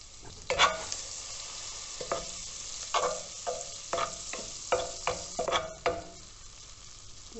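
Butter sizzling as it hits a hot pan, with a steady frying hiss broken by several sharp utensil scrapes and stirring clacks spaced every second or so, close and moderately loud.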